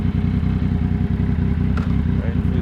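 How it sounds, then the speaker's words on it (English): Motorcycle engine started and idling close by, a steady, rapid low chug with a slight mechanical clatter, fairly quiet and continuous. "So start the motorcycle"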